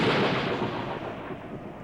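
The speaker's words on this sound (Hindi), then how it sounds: "बीच बीच में बिजली कड़क रही थी।" Deep, rolling thunder on a dark, cloudy stormy night, a broad rumble that starts loud and slowly fades over a couple of seconds.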